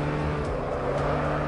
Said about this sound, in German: Achten Sie darauf, langsam und beständig Gas zu geben.